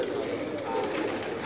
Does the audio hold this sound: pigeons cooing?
yes